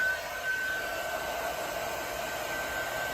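An embossing heat gun blows hot air over epoxy on a tumbler, a steady close whirring hiss with a thin high whine, constant from start to finish and free of talk.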